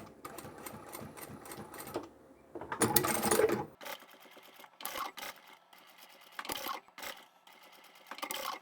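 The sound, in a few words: sewing machine stitching down the center of fabric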